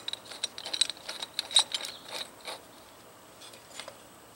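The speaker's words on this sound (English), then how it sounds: "Take your other knurled end and start that on one end, tighten up on the other end." A TexSport Shape Shift folding saw's knurled knob is twisted tight on the blade, giving a close, irregular run of small metallic clicks and ratcheting scrapes that thin out toward the end.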